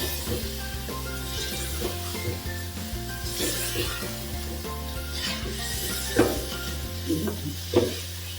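Turmeric and coriander powder masala frying in a pot for chicken korma, with a close, steady sizzle under repeated scraping and stirring strokes and a couple of louder clinks against the pan.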